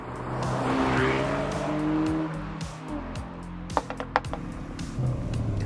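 A 2019 Renault Megane R.S. with a manual gearbox roaring up through its revs toward 7000 rpm, a loud sustained engine note that rises and shifts, then drops away into a few sharp mechanical knocks.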